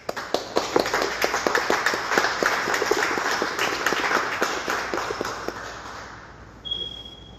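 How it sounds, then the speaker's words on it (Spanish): A lecture audience at a conference on local pioneers and their legacy applauds with dense, overlapping claps that swell and hold steady, then thin out and fade toward the end. "les pido un fuerte aplauso para comenzar"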